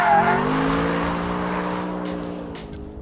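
A Mercedes SLS AMG Black Series is driven hard on the Paul Ricard circuit, its engine note droning close and loud and sliding gradually lower in pitch over a few seconds.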